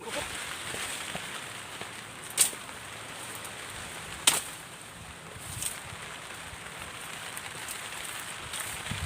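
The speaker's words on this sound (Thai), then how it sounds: "ฝนตกอีกแล้วครับ" Steady rain hissing across a broad wash, with a couple of sharp clicks or drops standing out briefly, no talking.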